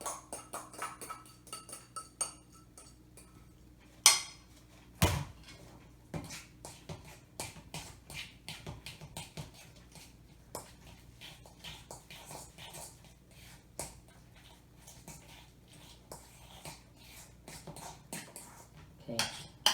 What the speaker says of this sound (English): Now we're gonna mix in the crab